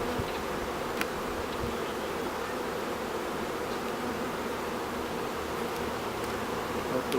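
A steady, continuous drone of honey bees buzzing close by while a package of bees is being installed into a hive, with no speech and an even, unbroken hum throughout.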